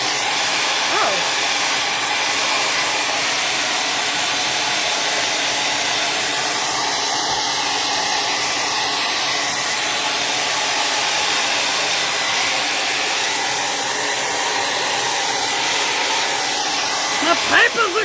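A hair dryer blows continuously onto book pages painted with watercolor, a close, steady airy hiss that lasts throughout with little change in loudness.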